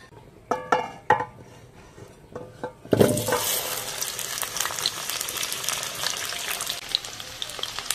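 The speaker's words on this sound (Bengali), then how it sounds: "কড়া ভালো গরম হয়ে গেছে, সরষের তেল দিয়ে দেবো। আলুগুলো ভেজে নেব।" Potatoes hit hot mustard oil in a wok with a sudden loud hiss that settles into a steady, dense sizzle, after a few light clinks and taps at the start.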